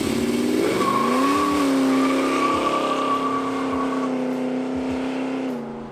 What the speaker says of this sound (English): Let me show you what a big block can do.